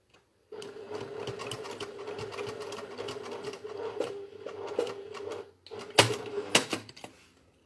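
A sewing machine runs a holding seam on a fabric bottle bag in several short bursts of rapid stitching, with small clicks and handling knocks between runs, fairly close and moderately quiet.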